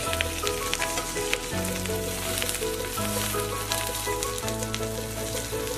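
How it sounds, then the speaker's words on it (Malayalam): Avoli fish fries in coconut oil in a covered pan, giving a steady, dense sizzle with crackling pops throughout, close and loud with no voices. "മൂടി വെച്ചിട്ട് പിന്നെ ഒരു 5 മിനിറ്റ് കൂടി നമുക്ക് ഫ്രൈ ചെയ്ത്."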